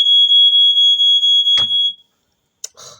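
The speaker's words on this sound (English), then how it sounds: "you fart and my smoke alarm goes off" A household smoke alarm sounds a loud, piercing, pulsing beep for about two seconds, then cuts off, followed by a brief knock and shuffling.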